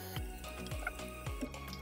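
Tap water runs steadily from a faucet while a makeup brush is rinsed and squeezed under it, giving a continuous close splashing stream with small irregular drips and ticks and no voices.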